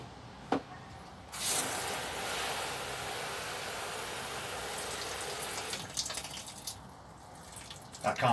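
Water pours into plastic seed trays for bottom watering at a UK allotment, a steady close splashing stream that starts after a brief knock and fades out into scattered clatter near the end.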